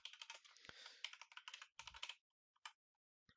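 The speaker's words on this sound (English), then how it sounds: "we're going to type in a name." Quiet typing on a computer keyboard, a quick run of light key clicks in short irregular bursts, then a few isolated taps after a pause.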